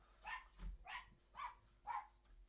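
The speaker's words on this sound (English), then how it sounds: "Oh, dogs are kicking off again." Two dogs barking in four sharp, evenly spaced bursts at moderate distance, each bark short and clear, with no talking over them.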